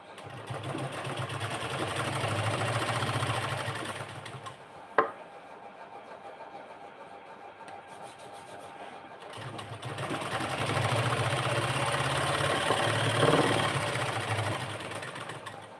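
Sewing machine stitching fine seams on fabric for a sleeve design with joined lace, running in two steady mechanical bursts separated by a quiet pause with a single sharp click.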